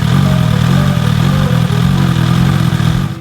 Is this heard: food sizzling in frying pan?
no